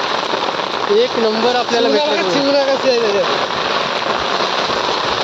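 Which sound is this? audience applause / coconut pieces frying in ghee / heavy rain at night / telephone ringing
heavy rain at night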